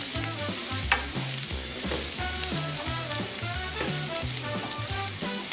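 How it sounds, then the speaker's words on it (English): Minced garlic fries in hot oil in a pan for sizzling string beans, a loud, dense, continuous sizzle close by that holds steady throughout, with a low rhythmic hum underneath and no voices. "we want to saute the garlic, but because it's so small, of course it's going to fry very quickly"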